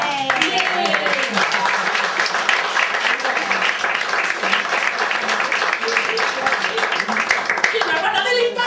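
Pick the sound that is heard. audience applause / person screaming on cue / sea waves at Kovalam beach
audience applause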